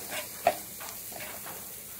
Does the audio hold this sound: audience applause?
no